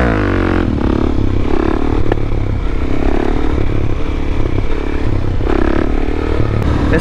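Motorcycle fitted with an FMF exhaust ridden near a construction area, engine loud and close, revving hard and surging during a wheelie with some clattering from the ground.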